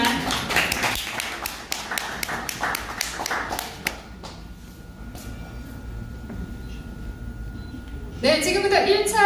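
An audience claps loudly as a speaker comes on stage at a round-table event. Dense applause fills the first four seconds and fades, then a quieter stretch follows and clapping swells again near the end.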